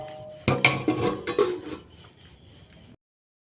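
A metal lid clatters off a pot of simmering rohu fish curry, several sharp clanks and scrapes of metal on metal followed by a softer rattle that fades into quiet.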